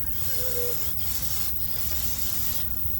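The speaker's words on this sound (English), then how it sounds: "Little brake clean." Brake cleaner sprayed onto Volkswagen Atlas brakes, a close continuous aerosol hiss broken by a few brief pauses between bursts, heard alone.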